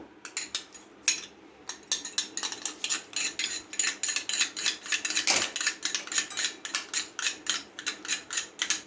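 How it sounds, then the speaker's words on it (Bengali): A spoon stirring set yogurt with milk in a bowl while making Bengali mishti doi: steady, rhythmic clinking and scraping strokes against the container, close and fairly loud, continuing without pause. "দুধ নিয়ে দইটাকে আগে ঘেঁটে নেবো"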